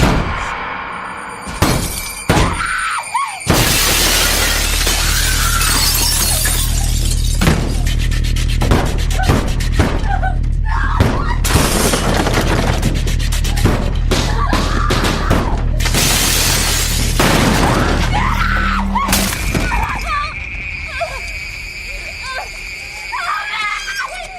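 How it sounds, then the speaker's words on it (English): In a 2014 horror film, a window is smashed by a thrown severed head: sharp glass-shattering crashes and breaking debris, mixed with screaming and loud, tense score throughout a long, chaotic stretch. "he fucking breaks the window by lobbing her boyfriend's severed head through it"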